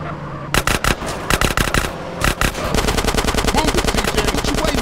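Rapid automatic gunfire in GTA San Andreas during a street shootout, dense bursts of shots, then a long sustained stream of rapid fire, loud and close with no talk over it.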